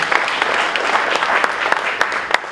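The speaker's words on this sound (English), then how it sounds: "let's go ahead and give Brian a round of applause" An audience at a talk applauds steadily, dense clapping that holds for the whole stretch without letup.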